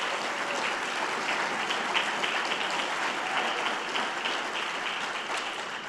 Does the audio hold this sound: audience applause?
yes